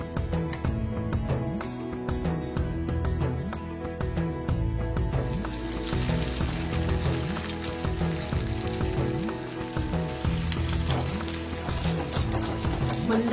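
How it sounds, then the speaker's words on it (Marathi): Shahi rolls fry one by one in hot oil in a pan, giving a dense, continuous crackle and sizzle like steady rain that holds throughout. "तेल आपलं गरम झालंय, आपण एक एक करून त्यामध्ये फ्राय करून घेऊ।"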